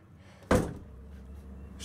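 A side door on a 2008 Wildwood LE 29BHBS travel trailer shuts with a single sharp thunk at close range, followed by a low steady room hum.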